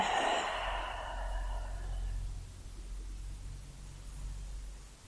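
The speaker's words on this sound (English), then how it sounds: "Taking a couple of deep breaths in and out." A slow, deep breath during a beginner yoga flow, with an audible airy exhale at the start that fades into quiet room noise.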